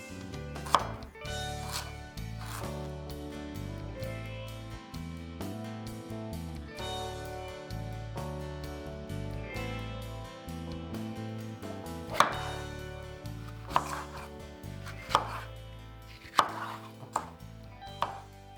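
A knife chops carrot on a cutting board in quick, even taps, a long close run of crisp strikes with a few sharper knocks along the way.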